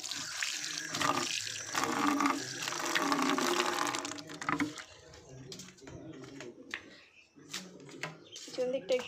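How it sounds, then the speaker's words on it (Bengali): Running water splashes while a dustbin is washed out, loud and continuous for the first few seconds, then sporadic trickles and splashes as someone talks. "ডাস্টবিনটা একটু ধুয়ে নিই।"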